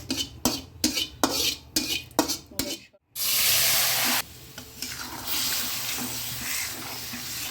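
Hot oil tempering with blackened radhuni seeds is poured over a raw banana and fish head curry. A few rhythmic stirring scrapes come first, then a brief pause, then a loud, dense, steady sizzle that carries on to the end.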